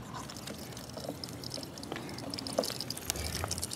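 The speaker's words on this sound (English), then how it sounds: "So we'll go ahead and open the water flow." Water pouring from a freshly opened valve on a DIY automated garden watering system, a steady broadband rush with small splashy clicks, continuous and close throughout.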